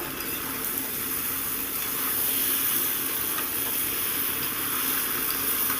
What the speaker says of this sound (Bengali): এবার দিয়ে দেবো ভাজা মাছের মাথাগুলো সুন্দর করে নেড়ে চেড়ে একটু কষিয়ে নেব